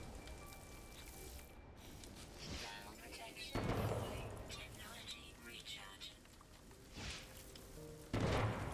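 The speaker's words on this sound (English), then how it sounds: "This is the Atlas fireworks" Atlas fireworks in No Man's Sky burst in scattered booms against a steady crackling bed, with sharper pops around the middle and a loud cluster near the end, while a voice speaks over them.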